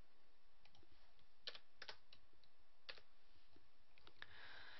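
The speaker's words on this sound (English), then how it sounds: "enter the verification code by typing in the letters or numbers you see in the picture." Quiet, irregular clicks of keys being pressed on a computer keyboard, a few bursts of typing with short pauses between them and no talking.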